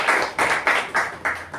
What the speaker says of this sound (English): So a huge round of applause for Evaluator Toastmaster Sindhushree.